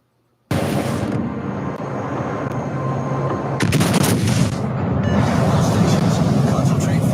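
Naval gunfire in a video game sea battle against enemy battleships: a dense, continuous roar of heavy cannon blasts and rumbling explosions, loud and sustained, growing heavier partway through.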